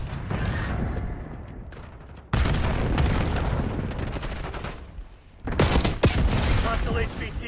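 Gunfire in a Call of Duty multiplayer match on Nuketown, loud bursts of rapid automatic shots and sharp reports with dense volleys, brief lulls and renewed salvos, mixed with game voice lines.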